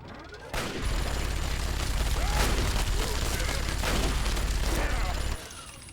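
Rapid gunfire and explosions in Fallout 3 on PS3 keep up a continuous, heavy barrage for several seconds before cutting off abruptly, with a voice talking at points over the battle.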